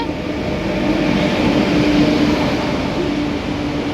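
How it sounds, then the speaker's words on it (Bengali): A train rolls in alongside a station platform with a steady, close rumble of wheels and carriages, overlaid by a faint tonal whine. "আমাদের ট্রেন চলে এসেছে"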